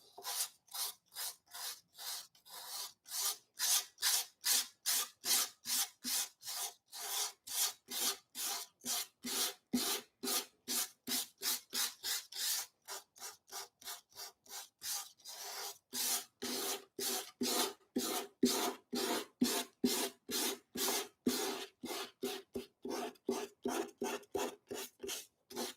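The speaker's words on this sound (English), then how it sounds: "I will cut a little piece like that, and I will start sanding." Rhythmic back-and-forth strokes of sandpaper on a small piece being prepared for violin varnishing, close and steady, dozens of evenly spaced rasping passes with a short pause midway, no talking.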